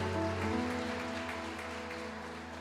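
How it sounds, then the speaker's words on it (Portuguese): A church congregation applauds, a soft, steady wash of clapping heard from a distance under a low sustained organ or keyboard tone, gradually fading. "Aplauda o Senhor mais uma vez por essa palavra."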